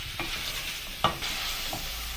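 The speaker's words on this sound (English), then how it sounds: "You can as well stir it and also give it time." Pork cooking in a pot is stirred with a spoon that gives a single sharp knock against the side, close and clear over a continuous sizzle, with no talk.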